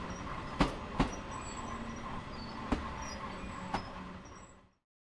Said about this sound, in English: The train will now come to a complete stop before being able to take control of it again.